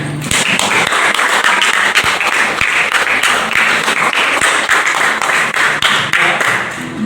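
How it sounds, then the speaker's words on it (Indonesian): Students in a classroom clap together in agreement, a loud, dense burst of many hands that keeps going steadily for several seconds with no talking. "Tanda setuju tepuk tangan."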